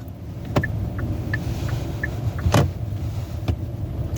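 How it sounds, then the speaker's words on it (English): Steady low rumble of idling and creeping cars stuck in a traffic jam, with a few sharp knocks and faint short beeps standing out over the continuous drone, nobody speaking. "Traffic jam."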